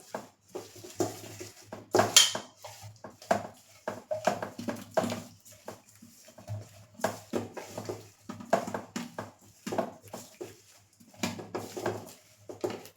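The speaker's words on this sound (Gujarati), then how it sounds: "મસાલામાં એડ કરી અને આપણે બરાબર મિક્સ કરી લેશું" Baby potatoes being stirred into a spice masala in a pan for Bhavnagar-style lasaniya potatoes, with irregular scraping and knocking of a spoon against the pan that comes in bursts and pauses.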